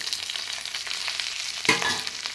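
Curry leaves, dried red chillies and tamarind frying in a pan for coconut chilli powder, a steady close sizzle with scraping stirs and a brief louder burst near the end, no voices.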